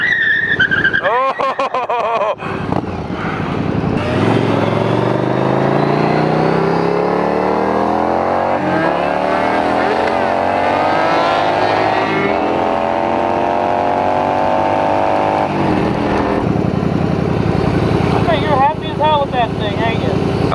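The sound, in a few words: Yamaha V-Star cruiser motorcycle engine revving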